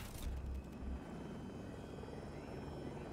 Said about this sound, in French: Deuxième hélicoptère est derrière nous.